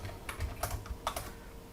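Quick bursts of keystrokes on a computer keyboard while writing code, a few close clicks clustered in an uneven rhythm, fairly soft and without speech.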